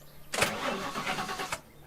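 A car engine cranks and catches in the zombie survival game The Last Stand Aftermath, a loud burst of turning over that settles into a steady running rumble, then a second sharp rev near the end.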